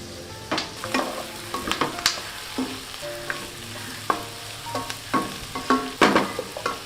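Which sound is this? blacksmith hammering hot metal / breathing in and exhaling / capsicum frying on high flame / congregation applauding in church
capsicum frying on high flame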